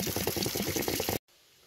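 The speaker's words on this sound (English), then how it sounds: "which will make the water come out much faster." Water gushes steadily out of the plumbing drain of a 2016 Keystone Bullet Crossfire 1900 RD camper trailer with the air vent opened, splashing loudly and close up for about a second before cutting off abruptly.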